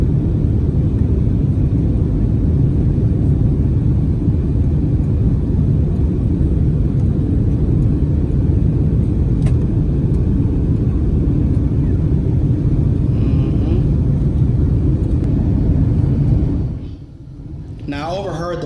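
Airliner cabin on descent into Phoenix after a flight from Detroit, filled with a loud, steady low rumble and roar that drops off sharply in the final second or so.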